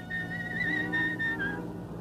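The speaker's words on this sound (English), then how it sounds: "You've got the most horrible whistle I've ever heard." A person whistles a wavering, slightly off-key tune for about two seconds, clear and fairly close, over a steady background hum.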